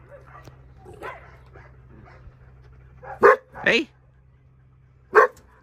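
A dog that grew up on a chain at a shelter barks several times in short loud bursts close by, with someone talking over a steady low background hum.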